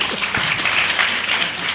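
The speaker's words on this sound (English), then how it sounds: "You all can give a round of applause" Applause from the audience at a panel discussion on jobs in an AI-driven world, a steady wash of clapping filling the short stretch at even loudness with no talk.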